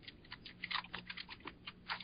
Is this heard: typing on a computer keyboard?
yes